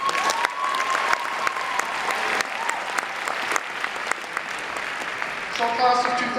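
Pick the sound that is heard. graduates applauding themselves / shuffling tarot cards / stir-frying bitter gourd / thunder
graduates applauding themselves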